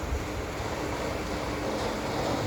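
Floodwater pouring into a road and canal after heavy rain, a broad steady rushing wash with a windy rumble, continuous and fairly faint.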